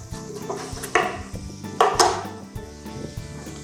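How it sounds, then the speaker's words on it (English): A knife chopping fresh shadow benny (culantro) on a cutting board, several sharp, close knocks at irregular intervals over a low sizzle from sausages and peppers cooking in the kitchen. "So I have some shadow benny that I just want to do a nice quick chop on."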